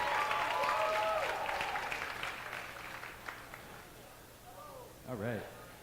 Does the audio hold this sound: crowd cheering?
yes